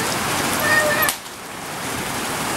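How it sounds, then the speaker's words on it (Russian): Heavy rain pours down in a steady, dense hiss that drops suddenly to a quieter, more distant wash a little past one second, with a brief faint tone in the middle. "дождь какой сильный у нас вообще"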